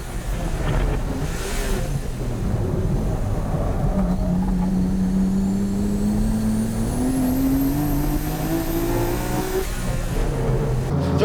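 A street-tuned MCR GTR, a turbocharged Nissan Skyline GT-R, races hard on a circuit, its engine loud and close as it climbs through the revs in long rising pulls between shifts, with a high turbo whine over the top.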